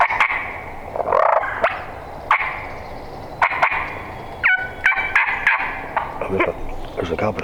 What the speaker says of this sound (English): There's a gobbler straight out in front of you.